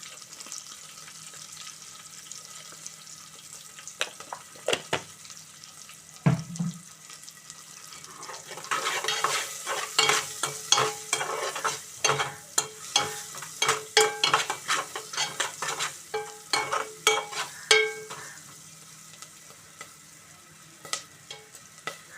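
Dal with turmeric frying and being stirred in a pan, a steady sizzle with repeated scraping stir strokes that build and thicken through the middle, close up and without speech.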